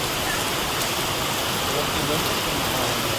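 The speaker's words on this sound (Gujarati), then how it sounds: "જોરદાર વરસાદ પણ" Heavy rain pours steadily as a dense, even hiss close by, with no gaps through the whole stretch.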